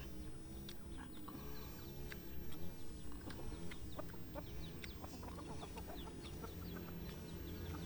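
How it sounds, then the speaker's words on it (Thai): Hens cluck and chatter steadily in a busy farmyard, with scattered bird calls over a constant low mechanical drone of a grass trimmer. "บรรยากาศกับเสียงไก่"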